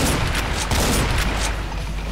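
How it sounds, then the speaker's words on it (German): Primary fire from a weapon in the Doom mod Project Brutality, heard as a loud, dense, continuous rattle of rapid shots with a rumbling low end that eases slightly toward the end. "Da ist Primärfeuer halt einfach abschießen."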